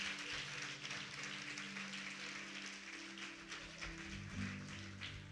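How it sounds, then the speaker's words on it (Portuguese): A church congregation claps along during a sermon, a dense, continuous patter of many hands at moderate distance, with a low sustained tone running underneath. "Aplauda como a pastora está aplaudindo a Jesus."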